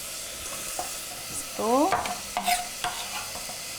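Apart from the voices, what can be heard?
stirring food in a saucepan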